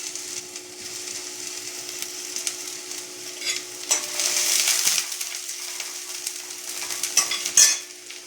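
Onion frying in a pan on a gas stove for a spicy Maharashtrian brinjal dish, a steady close sizzle with stirring and scraping throughout, swelling a little near the middle and again toward the end, with no talking.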